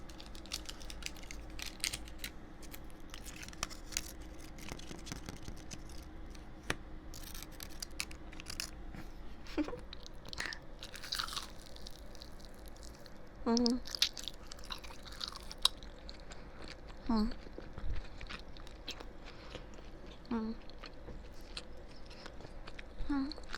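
Close-up ASMR chewing of Arby's food dipped in marinara, soft wet crunches and mouth sounds scattered irregularly over a faint background, with a few small clicks.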